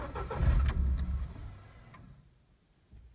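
A Ford Fiesta Mk6 engine cranks but fails to start. A short churning turnover fades out after about a second and a half, followed by quiet and a faint click.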